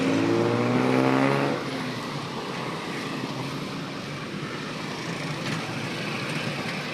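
Heavy traffic at the Chan–Narathiwat intersection in Thailand gives a constant wash of engine rumble and road noise, with a louder droning vehicle passing close early on, then a steady mid-level hum.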